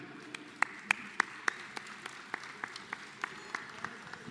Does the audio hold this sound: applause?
yes